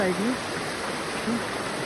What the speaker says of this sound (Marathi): पाण्याचा प्रवाह पण भरपूर आहे.